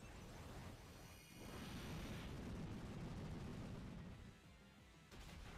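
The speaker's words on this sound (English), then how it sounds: "Explosion" An explosion move in the Pokemon Omega Ruby video game, a roaring, crackling blast that swells for a few seconds and then fades, with a smaller burst near the end.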